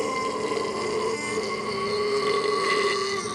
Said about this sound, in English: just looking at that is making me burp